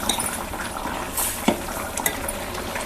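Ridge gourd curry mixed with a ground paste is stirred in a pan, a spoon scraping and knocking with soft sizzling underneath, steady and close with a few sharper clinks.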